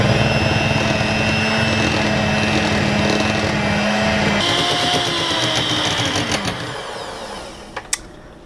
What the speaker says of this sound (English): we're gonna blend this slowly at first so you don't get it all puffed up in your face, and then we're gonna blend it thoroughly for just about a minute